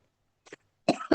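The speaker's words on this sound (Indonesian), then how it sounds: "Maaf Ustaz, batuk." A few coughs during an online Quran study discussion: one short, soft cough, then two louder, harsher bursts close together near the microphone, with no talking.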